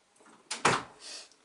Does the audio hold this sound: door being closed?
yes